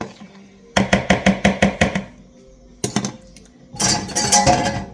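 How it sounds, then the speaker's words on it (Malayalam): A whisk beats banana cake batter in a bowl, giving a quick run of about eight even, close clinks, then a pause and a shorter burst of scraping strokes. "ഒന്ന് വിസ്ക് ഉപയോഗിച്ച് ഒന്ന് ബ്ലെൻഡ് ചെയ്തെടുക്കുവാണേ"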